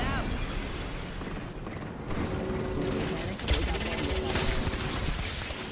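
Video game gunfire crackles in dense bursts, with rapid shots layered over explosions and a steady game soundscape while a player calls out over the action.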